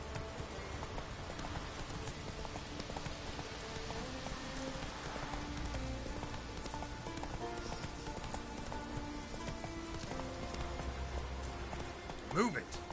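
Roach, Geralt's horse in The Witcher 3: Wild Hunt, gallops along with a continuous rhythmic clatter of hooves beneath steady ambient noise, while a voice speaks over the running.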